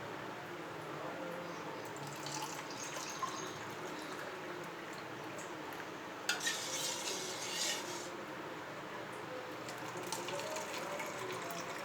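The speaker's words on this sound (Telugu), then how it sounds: "గిన్నెకి జ్యూస్ పోద్దాము." Carrot juice pours into a bowl with a steady, soft liquid trickle and splash running throughout, a little louder and brighter for a moment partway through, close by with no talk.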